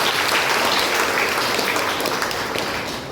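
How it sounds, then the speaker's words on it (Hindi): A large audience at a college induction programme for BBA, BCA and agriculture students breaks into dense, sustained applause, a loud continuous wash of clapping that fades slightly at the end. "आप अपने लिए एक बार ताली बजाएं"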